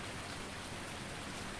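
Rain in the farming video game Farming Simulator 19 gives a soft, steady, even hiss that carries on without a break and without voices.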